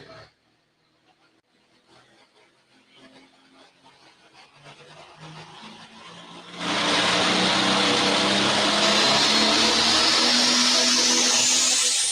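Pulling tractor engine roaring during a tractor pull run at an event center, starting with a quieter rumble and jumping to a loud, sustained roar partway through.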